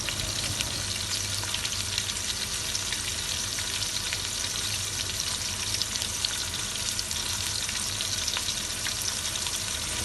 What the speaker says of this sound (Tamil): பிரிஞ்சி இலை 2, பட்டை 2, கிராம்பு 4, ஏலக்காய் 2 சேர்த்து நல்லா வதக்கி விட்டுக்கலாம்.